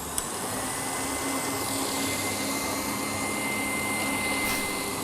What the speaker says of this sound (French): j'accélère pour mettre à la vitesse maximum pour serrer mes blancs